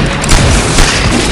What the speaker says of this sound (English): Damn, grenade!